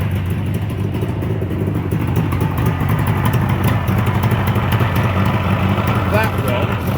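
A Suzuki GT750 three-cylinder two-stroke motorcycle engine runs steadily at idle during carburetor balancing, a continuous close rumble with someone speaking over it throughout.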